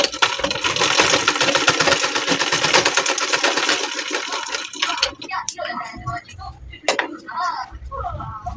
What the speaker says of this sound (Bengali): এর ওপর থেকে কিন্তু আমি সেলাইটা দিয়ে নিচ্ছি